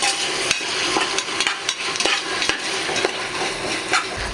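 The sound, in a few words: onions sautéing with salt for pork curry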